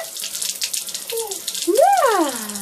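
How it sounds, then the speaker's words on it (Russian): A bathroom tap runs into a sink during a baby's morning tooth brushing, a steady close splashing stream, with short vocal sounds rising and falling over the water near the end. "Ой, водичка."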